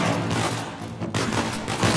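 Dense gunfire bursts with a heavy blast-like roar fill a firefight in the Uncharted 4 video game, loud and continuous across two seconds with a brief dip in the middle.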